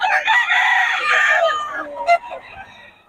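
Rooster crowing loudly and close by at a rooster sale, one long drawn-out crow followed by a brief squawk and faint clucking.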